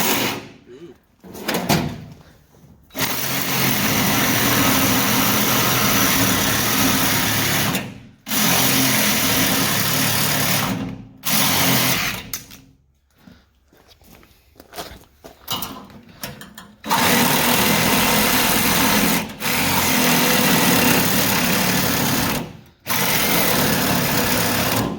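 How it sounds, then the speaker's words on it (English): An angle grinder chases a weld on a homemade off-road tool cart, running in several loud, sustained bursts separated by short pauses, with people talking between runs. "I'll chase it with a grinder."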